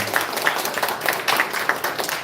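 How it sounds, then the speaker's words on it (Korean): A church congregation claps together during a Sunday worship service, a short burst of rhythmic, fairly even clapping from a room full of people. "박수로 하나님께 보내드리겠습니다."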